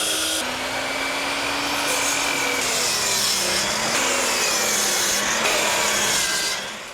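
A hand saw cuts through lumber for a picnic table, loud and close, a continuous rasping stroke that holds steady for several seconds before easing off at the end.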